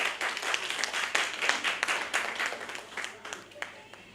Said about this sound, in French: C'est pourquoi on va l'acclamer.